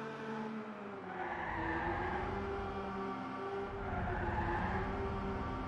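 Car drifting and skidding in Ridge Racer Type 4 on PlayStation, played with a Namco Jogcon controller: a long, loud tire screech over a steady engine drone, swelling twice without pause.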